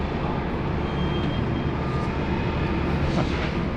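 A Cathay Pacific airliner in old livery on final approach at Sydney Airport gives a loud, steady broadband jet roar throughout, close and unbroken.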